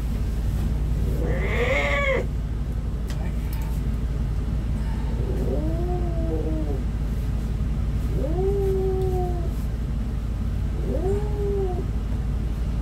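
An aggressive cat caterwauls in a series of drawn-out, wavering yowls, about four separate cries spread across the stretch over a steady low background hum, close and fairly loud.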